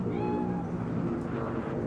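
A cat in Cyberpunk's Night City gives a drawn-out meow that rises and then trails off, moderately close and fairly faint over a low background hum.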